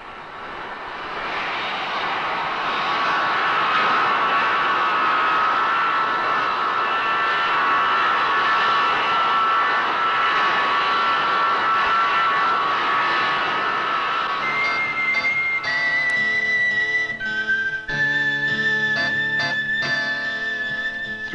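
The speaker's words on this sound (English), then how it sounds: "Throughout the day and night, planes come and go." Aircraft engines drone steadily at Manchester Airport in 1972, a loud continuous whine and roar running throughout, with sharper tonal whistling rising toward the end.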